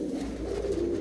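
Soft, low cooing from pigeons, including a female with pale yellow eyes, kept by a pigeon fancier; the murmuring coos run steadily and close throughout with no talking.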